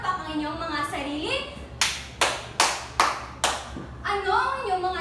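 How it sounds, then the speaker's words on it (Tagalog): A class of students claps five times in an even rhythm, the sharp, close claps coming about half a second apart, with a teacher's voice speaking before and after. "bigyan niyo po ng 5 palakpak ang inyong mga sarili."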